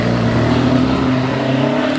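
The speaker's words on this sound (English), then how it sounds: "Ray Lower has just left the line in his Caterham 7 Super Sprint" A Caterham 7 Super Sprint race car leaves the start line of a British Championship hillclimb at Prescott, its engine roaring loud and steady, close by.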